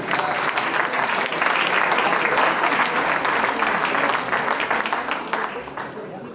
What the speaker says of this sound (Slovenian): še zraven tudi malo aplavza